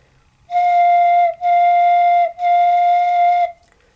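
Three steady, breathy tones from PVC organ pipes sound one after another with short gaps, each holding a single clear pitch, fairly loud and alone.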